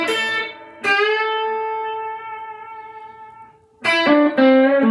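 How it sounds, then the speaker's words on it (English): Fender Stratocaster played clean through a slightly driven Fender Blues Junior amp with a little reverb and no pedals: a strummed chord rings out and decays slowly, then two more chords are struck near the end, loud and alone. "Today I'm just plugged into a Fender Blues Junior, driving it a little bit, and no pedals,"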